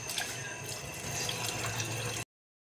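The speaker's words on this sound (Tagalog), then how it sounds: "Bubaran muna natin ang tubig." Water pours steadily into a cooking pot for a boiled bone-in soup, a continuous splashing rush that runs for about two seconds and then stops abruptly.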